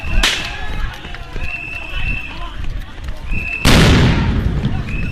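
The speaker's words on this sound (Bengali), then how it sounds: "একের পর এক সাউন্ড গ্রেনেড নিক্ষেপ করা হচ্ছে।" Sound grenades burst one after another at a street protest where police face stone-throwing crowds. Two sharp, loud blasts go off several seconds apart over a constant rumble of crowd noise and voices.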